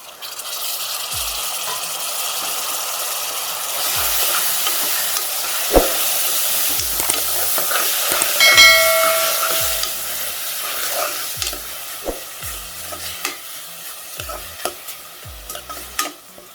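Tomatoes and onions sizzle and sauté in a pan for a Tamil drumstick and cowpea kuzhambu, with a steady frying hiss broken by repeated scraping stirs of a spoon against the pan.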